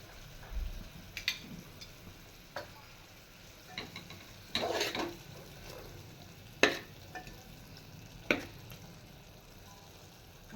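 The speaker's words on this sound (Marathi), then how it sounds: "आणि त्या तुपामध्ये" Poppy seeds roast in a little ghee in a pan, a faint steady sizzle broken by occasional sharp scrapes and stirring clicks.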